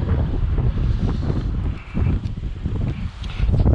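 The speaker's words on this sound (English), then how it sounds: "Another windy day." Strong wind buffets the microphone outdoors in a steady, loud low rumble that surges and dips in gusts, with no voices.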